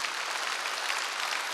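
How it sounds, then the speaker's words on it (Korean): Congregation at a Wednesday church service breaks into brief, dense clapping, a short even burst of applause with no talking. "지금 읽은 사람 박수 치라"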